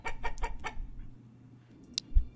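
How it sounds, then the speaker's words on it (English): Chickens in the Manor Lords video game give a quick run of close clucks, then a pause and a last isolated cluck over a quiet low hum. "so let's put some chickens in there."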